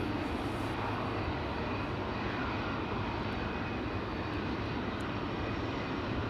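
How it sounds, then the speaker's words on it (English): KLM airliner, a ten-year-old jet on flight 597 to Cape Town, lined up for departure on the runway at Amsterdam Schiphol, its engines giving a steady, loud, broadband roar with no voices. "KLM flight 597, the PHBVO, lined up, ready to go to Cape Town, South Africa"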